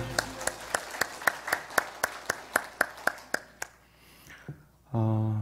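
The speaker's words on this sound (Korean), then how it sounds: "우리 다 함께 박수 한번 하겠습니다." During a Sunday worship service at a church in Jeonju, the congregation claps together in an even, brisk beat of about a dozen crisp claps. After a short pause, a loud sustained voice or tone takes over at the end.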